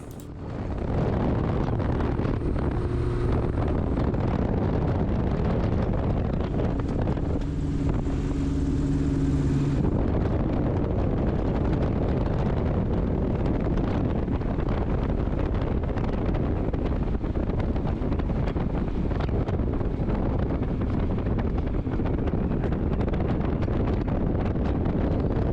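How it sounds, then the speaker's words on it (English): Heavy wind roars across the microphone throughout a small airplane landing, a dense, continuous rush with a faint engine hum and brief tonal whine early on. "that was a nice and windy landing"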